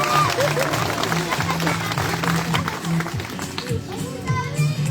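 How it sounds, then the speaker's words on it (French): A crowd of spectators applauds Cléo the sea lion after her demonstration at an outdoor animal show in Plaisance-du-Touch, steady clapping mixed with children's voices and chatter throughout. "Et on peut l'applaudir bien pour également le petit Cléo."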